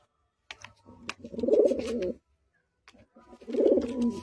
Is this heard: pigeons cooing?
yes